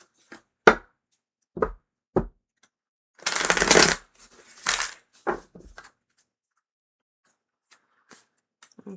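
Close-up tarot card shuffling: several sharp taps and flicks, then a longer riffling shuffle, followed by a few more scattered taps.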